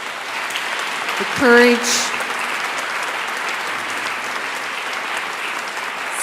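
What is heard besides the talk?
audience applause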